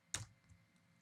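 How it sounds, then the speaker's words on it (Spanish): A single sharp click from pressing the Enter key on a computer keyboard, close and brief, followed by quiet room tone. "de un solo clic, aprieto el Enter del teclado"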